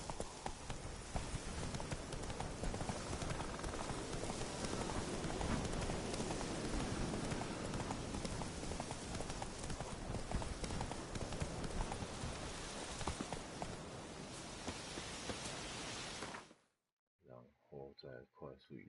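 Hooves of a galloping horse pound in rapid, continuous clip-clop through The Witcher 3 video game, loud and close, before cutting off abruptly near the end; a voice speaks briefly over it.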